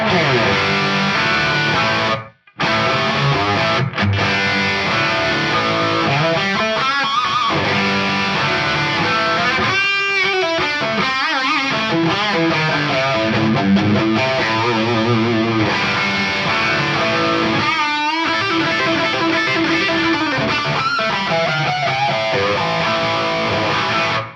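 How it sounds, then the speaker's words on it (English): Two convolution reverbs, room and gated impulse responses, are layered on a distorted, processed electric instrument tone, playing dense, sustained, shifting notes with a brief dropout near the start. "let's hear the two convolution sounds together, and then I'll add the late tails on there."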